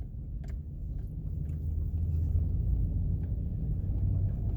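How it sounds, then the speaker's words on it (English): A diesel pickup engine rumbles low and steady from inside the cab while driving Arizona State Route 288, a deep constant drone with no voices. "truck is a diesel, but it's not real loud like some of the diesels."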